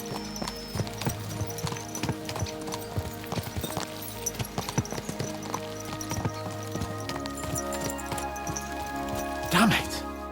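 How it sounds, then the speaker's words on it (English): Horses galloping in Kingdom Come: Deliverance II, with a steady clip-clop of hooves running through the whole stretch under game music, plus a brief louder burst near the end. "Let's really spur these horses on, eh?"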